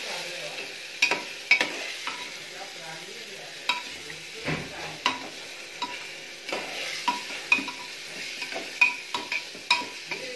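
Rice for egg biryani is stirred with egg masala, rice masala and Schezwan seasoning in a pan: repeated scraping and tapping of a spoon over a low sizzle, close up, with no talking.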